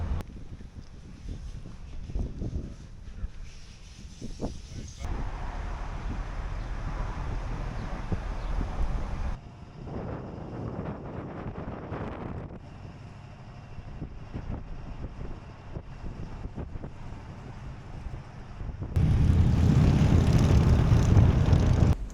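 Steady wind rumbles and buffets a microphone outdoors on a dock, with low gusty roar throughout and a louder, harsher burst of wind noise near the end.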